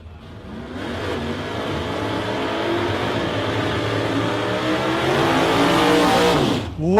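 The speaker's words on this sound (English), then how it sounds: "Good launch there for Richard, a 367" Race cars launch and accelerate hard at a drag racing memorial event, engines rising from a quick start into a loud, sustained roar with climbing gear pitch over several seconds, ending in an abrupt cut.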